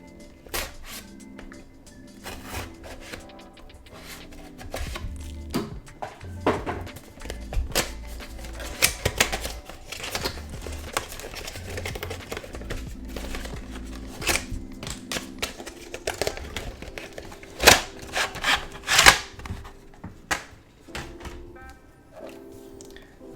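Plastic packaging and an OtterBox Defender Series case for an iPad Mini 6 being opened and handled, with a steady run of close crinkles, taps and clicks over about twenty seconds and no talking.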